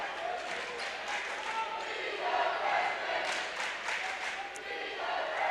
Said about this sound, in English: I love the chant that's going on as J.J. Truitt scores there.